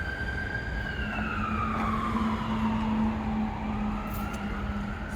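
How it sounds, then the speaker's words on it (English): An ambulance siren wails as it passes, its rising and falling tone sweeping past in steady loud street traffic, with no voices over it. "Now I said a moment of silence and here comes the ambulance."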